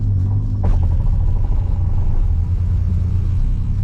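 A Suzuki Cappuccino with a rebuilt rear differential drives along, a loud steady low rumble of the car underway with no distinct whine standing out.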